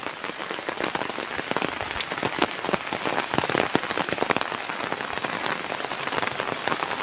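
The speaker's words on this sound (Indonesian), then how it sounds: "suasana di musim hujan ya" Rain falls steadily in the countryside during the rainy season, a dense, even patter of drops on surfaces close by, with no voices.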